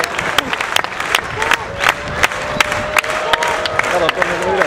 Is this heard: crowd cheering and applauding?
yes